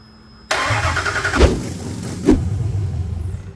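A supercharged Hellcat engine from a fire-damaged 2021 Dodge Challenger Hellcat Redeye cranks and fires abruptly into a loud, deep rumble, with two sharp revs before it settles into a rough idle.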